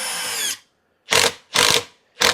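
RYOBI lag driver spinning a lag screw through a socket: a short whirring burst, a pause, then three loud high-pitched impact-driver bursts in quick succession, close up with no talk.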